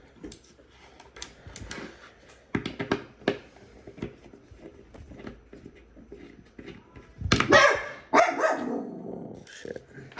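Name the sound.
wiener dog barking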